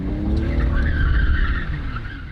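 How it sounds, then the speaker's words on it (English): A car spins out while drifting without counter steering, its tires skidding and squealing loudly over a strained, revving engine in one continuous close smear of noise. "And so we just spun out."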